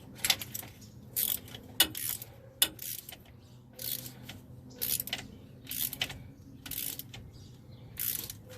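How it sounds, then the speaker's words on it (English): Small metallic clicks and ratcheting from a new Toyota differential vent valve being screwed in by hand, close up and fairly quiet, in short irregular bursts with no talking. "We take out the new one and we screw it in."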